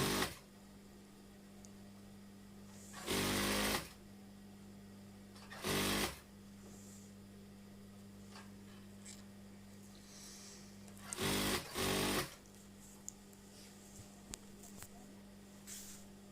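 A sewing machine stitching a garment seam, running in short bursts: one brief run, another, then a longer double run, with a quiet steady hum between them and no talking.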